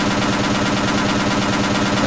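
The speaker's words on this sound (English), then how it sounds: "I don't know why you're yelling about this gunfire." Sustained machine gun fire from the video game Half-Life: Opposing Force, a dense, continuous loud burst of rapid shots with no pauses and no talking.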